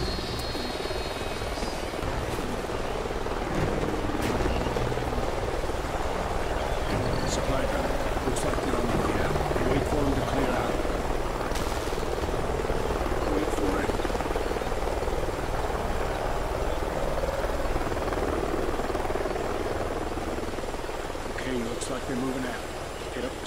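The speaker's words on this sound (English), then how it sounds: "Sounds like a chopper's up ahead of us." A video game helicopter's rotor and engine drone continuously and loudly throughout, a steady chopping roar with scattered faint clicks and rustles mixed in.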